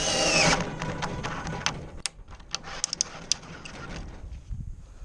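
A power drill reams out a bolt hole in work van shelving, starting with a loud whirring burst and then moving through rough grinding and sharp metallic ticks as the bit works left and right.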